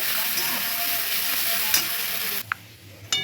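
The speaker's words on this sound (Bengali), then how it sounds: "এবার আদা রসুনের পেস্টটা দিয়ে দিলাম করে মশলাগুলো একসঙ্গে মিশিয়ে নেব" Ginger garlic paste and chili powder fry in hot oil while a spoon stirs them in a pan for a Bengali fish kalia, a loud steady sizzle with scraping strokes that drops sharply near the end.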